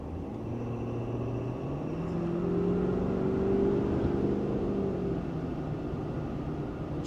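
Ford F-250 Super Duty pickup truck in derate with very hot exhaust, slowing on a road: a steady low engine drone and road rumble with a slight swell in the middle, then easing back, fairly close and unbroken, no talking.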